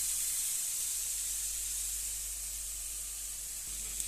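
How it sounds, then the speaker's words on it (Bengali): Potatoes, a lemon-coloured variety, frying in hot oil for burgers, giving a steady, even hiss that runs unbroken at moderate loudness. "পরে আলুটি আবার ভাজে নিতেছি"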